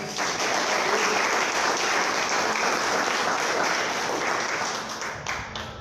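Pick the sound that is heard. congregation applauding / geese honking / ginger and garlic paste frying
congregation applauding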